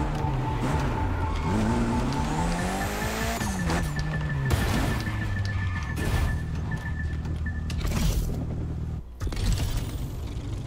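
Cars race in The Crew Motorfest video game, engines roaring and shifting pitch with tires squealing through skids, loud and continuous throughout with no talking.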